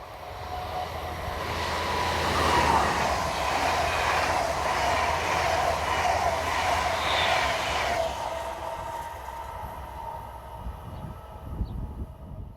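A Class 101 electric locomotive hauls an extra intercity train from Stralsund to Cologne, its rumble and wheel noise swelling as it nears and passes, then fading away to quiet with a few faint knocks at the end.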